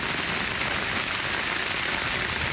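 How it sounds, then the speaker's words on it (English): Heavy rain pours steadily during a flash flood emergency in Southeast Texas, a dense, even hiss of rainfall that stays loud and unbroken throughout, with no voices. "every time we get any amount of rain like this, 8-10 inches of rain"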